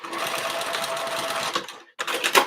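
A sewing machine stitches waterproof canvas for a snap pouch in a fast, steady, close-up whir, cuts out for a moment, then starts stitching again in a second short burst.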